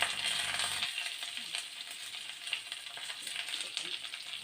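Chopped onion and green chilli hit hot coconut oil for a Ceylon spinach stir-fry, bursting into a lively, close sizzle that continues with light crackles after a brief low hum at the start.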